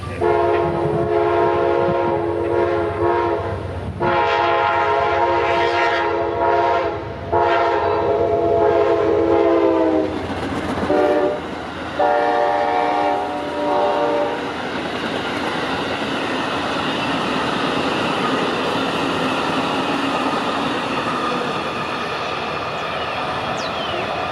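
A freight train rolls past near the tracks between Palatka, Florida and Folkston, Georgia, its horn blaring in several long, loud blasts over the first half, then the steady rumble and clatter of the cars continuing alone.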